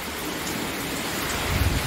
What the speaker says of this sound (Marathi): एवढा मस्त पाऊस पडायला लागलाय.